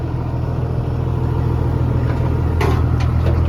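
The diesel engine of a John Deere 200 LC excavator idles, a loud, steady, low rumble heard up close with no talking, and a few faint clicks near the end.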